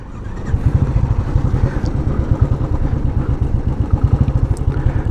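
Several motorcycles idle together in a stalled traffic queue on a narrow road near the Chenani Tunnel in Jammu, a loud, close, steady throb of pulsing engines with no voices.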